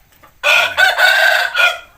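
A Burmese fighting rooster crows once, loud and close, a raspy drawn-out call lasting just over a second.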